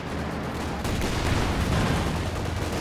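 A Vickers machine gun fires in Company of Heroes 2, a dense continuous rattle of gunfire mixed with battle noise that grows heavier after a brief lull, loud and close.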